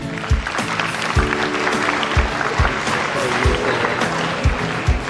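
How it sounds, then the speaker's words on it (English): Students at a school felicitation and prize-giving ceremony are applauded by the audience, with sustained loud clapping punctuated by a few regular low thumps. "A huge round of applause for these students."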